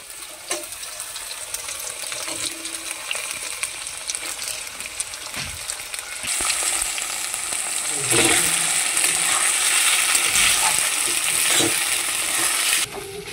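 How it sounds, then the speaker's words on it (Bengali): Potato, carrot and long bean pieces sizzle loudly in a pan of hot oil, a continuous close frying hiss with occasional stirring scrapes that grows louder partway through, with no talking. "আলু আর গাজর কিছুক্ষণ ভেজে নিয়েছি, এখন বরবটিগুলোকে দিয়ে দিচ্ছি।"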